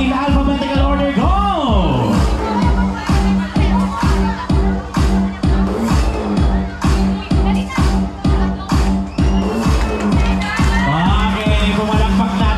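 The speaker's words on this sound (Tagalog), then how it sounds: "pumalakpak na at nagsigawan ng mga Bisada" Guests at a first birthday party clap in a steady rhythmic beat and shout together, loud and close, with voices singing and calling over the clapping.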